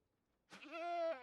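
A goat in the Minecraft modpack FTB Skies 2 gives one drawn-out bleat, fairly faint and alone, starting after a short silence.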